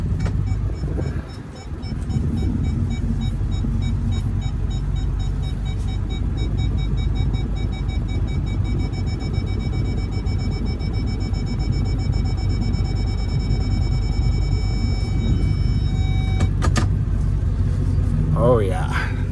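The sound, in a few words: big long truck reversing out of a shop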